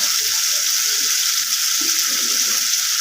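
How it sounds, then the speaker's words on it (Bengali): Water is poured into a pan of cauliflower and bhetki fish curry, giving a steady hissing, splashing rush with a faint sizzle underneath. "তাই আমি একটু অল্প পরিমাণে জল দিচ্ছি।"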